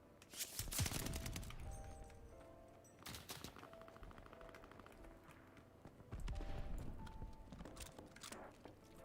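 Video game gunfire rattles in faint, rapid bursts with an automatic weapon's heavy recoil. Three separate volleys are spaced across the stretch, quiet and somewhat distant.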